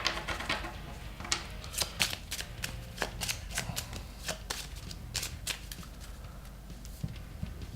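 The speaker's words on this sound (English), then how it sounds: "Now we're out of action cards. So what we do, we shuffle them all together." Action cards from the Misdirection board game are shuffled together by hand, making rapid, irregular riffling clicks and papery flutters that stay close and continue for several seconds, with no talking.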